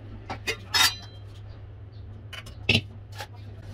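A spoon stirs ground sugar into milk in a bowl, making a few sparse, bright metallic clinks and scrapes over a low, steady hum.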